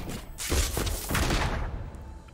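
A rocket card played in the Legends of Runeterra card game gives a burst of rapid, crackling blasts and thumps, loud and dense for about a second and a half before tapering off.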